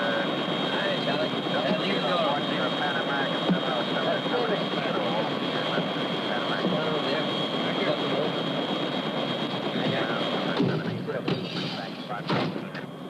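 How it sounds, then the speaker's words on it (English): A continuous roaring engine drone, loud and close like a helicopter, fills the whole stretch, with bursts of other noise near the end. "isn't that your helicopter over there?"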